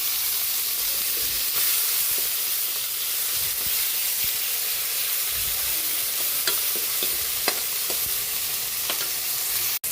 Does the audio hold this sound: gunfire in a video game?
no